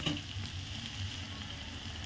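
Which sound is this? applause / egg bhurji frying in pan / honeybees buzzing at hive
egg bhurji frying in pan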